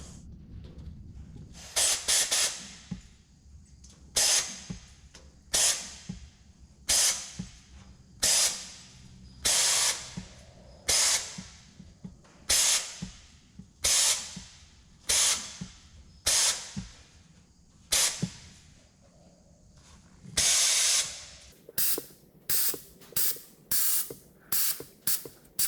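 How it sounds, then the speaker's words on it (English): Sandblaster blasting the back side of a car fender in repeated short hissing bursts, roughly one every second or two, close and loud against a quiet background. "Sandblasting has still got to be about the best way to clean up rough surfaces"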